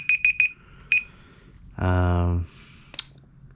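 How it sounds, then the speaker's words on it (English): A timer alarm goes off with a few quick high beeps, then a harsh buzzing tone lasting under a second, followed by a click. "That's my timer"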